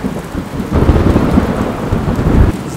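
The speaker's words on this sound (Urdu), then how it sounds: "پہلے ایک بوند بارش کی، پھر ہوائیں تیز ہو گئی، پھر آسمان پھٹ گیا۔" A loud thunderstorm in full force: dense heavy rain pours steadily on surfaces while deep rolling thunder rumbles and gusts of wind surge and swell, continuous and close with no voices.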